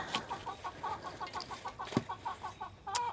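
Backyard chickens cluck in a steady, rapid series of short calls at moderate distance, with a couple of brief louder squawks near the end and no talk.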